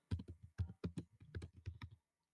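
Quick bursts of keystrokes on a computer keyboard, a dozen or so close, crisp taps in uneven clusters, then silence.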